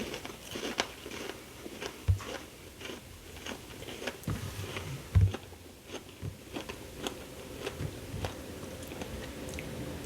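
Crisp crunching bites into a Taco Bell Milk Bar birthday cake churro, close up, with several sharp cracks followed by steady chewing and crackling over about ten seconds, no talking.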